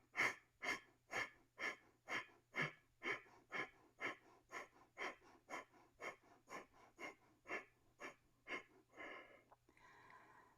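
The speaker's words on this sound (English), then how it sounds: "a little bit of Kapalabhati where you take a deep breath in and then slow puffs of exhale" Kapalabhati yoga breathing, a steady train of about twenty sharp, forceful nasal puffs of exhale at a regular quick rhythm, close and clear in a quiet room, ending in a longer breath.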